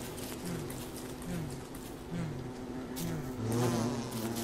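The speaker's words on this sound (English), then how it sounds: "Is that a bee?" A bee in the survival game Don't Starve buzzes steadily, its droning hum wavering in pitch as it drifts nearby, with no talking.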